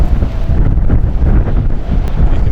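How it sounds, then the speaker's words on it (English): Strong gale roaring across an exposed stormy coastline at Stoer, buffeting a telegraph pole and its wires with heavy, continuous gusting and microphone buffeting, loud and unbroken throughout. "the wind raging through that telegraph pole and the wires"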